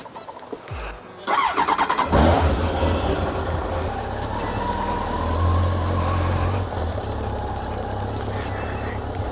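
A Z car engine cranks briefly, catches and settles into a loud, close, steady idle and low rumble as it begins to drive off.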